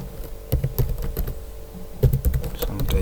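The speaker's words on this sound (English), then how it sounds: "So I'm typing all the commands" Keys clatter in quick irregular bursts on a nearby computer keyboard, with short pauses between runs of typing.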